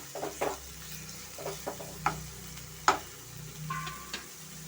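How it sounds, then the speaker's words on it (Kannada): Vegetables frying in a pan over a medium flame for vegetable upma, a soft steady sizzle with a few sharp ladle clinks and taps against the pan scattered throughout. "ಮೀಡಿಯಮ್ ಫ್ಲೇಮಲ್ಲೇ ಸ್ವಲ್ಪ ತರಕಾರಿ ನಾವು ಚೆನ್ನಾಗಿ ಫ್ರೈ ಮಾಡ್ಕೊಳ್ಳೋಣ"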